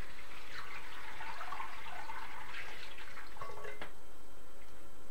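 Water poured into a batch of tepache, the fermented pineapple drink, filling a container with a steady liquid splash and gurgle for several seconds, close and fairly loud with no talking.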